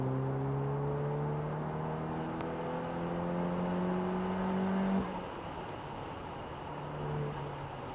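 An Audi S3 cruises along a road among lorries, its engine holding a steady hum with rising tonal whine that drops and shifts near the middle, constant road and cabin noise underneath, no talking.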